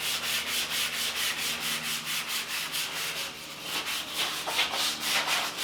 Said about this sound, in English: Now I'm going to go back over it one more time with a fresh piece of sandpaper, nice and lightly